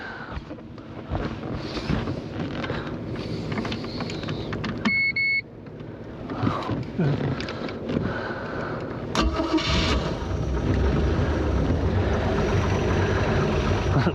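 A 1973 Cobalt boat's Mercruiser 165hp engine cranks and starts, then settles into a rough, rumbling idle close to the microphone, with clunks, wind buffeting and a brief electronic beep along the way.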